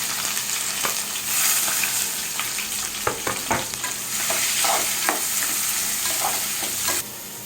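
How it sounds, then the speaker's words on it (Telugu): Curry leaves, green chillies and onions crackle and sizzle in hot oil for a cabbage curry, loud and close, with frequent sharp scraping clicks of a spoon stirring through the pan. "కొంచెం ఫ్రై అవుతున్నప్పుడు కరివేపాకు, పచ్చిమిర్చి, ఆనియన్స్ యాడ్ చేస్తున్నాం."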